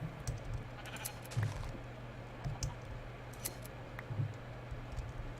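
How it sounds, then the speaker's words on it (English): Minecraft sheep being sheared, quiet repeated snipping clicks spaced about a second apart over a soft steady background hum, with faint bleats mixed in. "I could just run out to the field beside me and shear a bunch of sheep."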